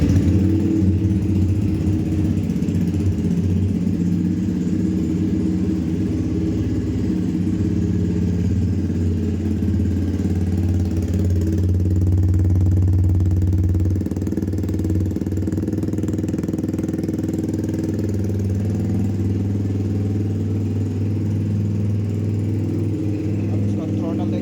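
A Yamaha R15 V2 fitted with an Akrapovic full-system exhaust, dB killer removed, idles nearby with a steady, low, even drone that holds constant throughout.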